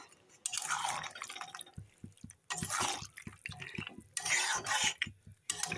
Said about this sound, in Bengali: বড়িগুলো সেদ্ধ হওয়ার জন্য অল্প জল দিয়ে ঢাকা দিয়ে দেবো